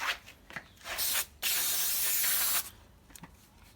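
Carb cleaner aerosol sprayed onto a 50cc motocross bike's air filter holder in several bursts: short hissing puffs, then a long steady spray of over a second, followed by a few brief squirts, close up with no talk.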